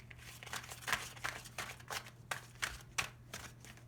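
Tarot cards are shuffled by hand in a quick series of about ten crisp riffling bursts at an even rhythm, close to the microphone over a faint steady hum.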